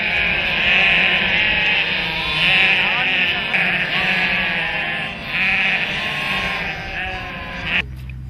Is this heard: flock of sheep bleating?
yes